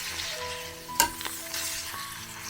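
Papad (pappadam) fries in hot oil in a pan, giving a close, steady crackling sizzle with a sharp clatter about a second in, and no voices.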